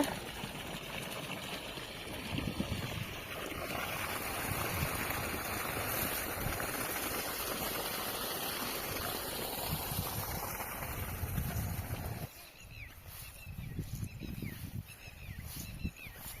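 Water gushes steadily from a farm borewell pump in open fields, a dense, rushing wash that continues for about twelve seconds before thinning into softer splashing and wind.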